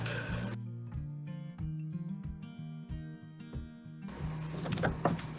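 An embroidery machine stitches a rose window quilt design in a big hoop, giving a rhythmic mechanical whir with repeated needle pulses in short runs, close and steady, with brief louder handling noise at the start and end.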